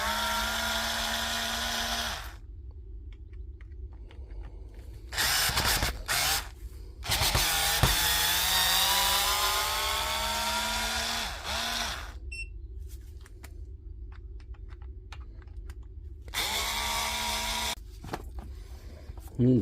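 A power driver backs screws out of a Dewalt DCP580 planer in several short whirring bursts. Quiet gaps separate the bursts, and a voice speaks in between.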